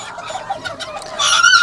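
A Serama rooster gives a series of short, close clucks in an uneven rhythm, ending in a louder, drawn-out call, with no talk over it.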